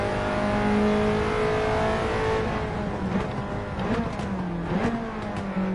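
A racing car engine droning steadily in a video game race, a continuous tonal hum that shifts pitch as the car speeds up and changes gear, with faint tire noise.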